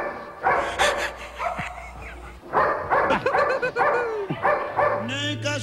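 A dog barks and yips repeatedly in a home, its bursts mixed in with lively talk and music from a Brazilian TV comedy show.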